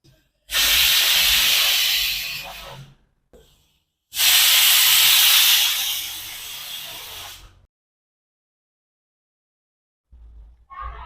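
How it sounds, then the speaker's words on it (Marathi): Two long, loud bursts of hissing steam from a pressure cooker whistle while cooking rice, the second longer, separated by a short pause and followed by near silence. "कुकरच्या शिट्ट्या आपल्या झालेल्या आहेत"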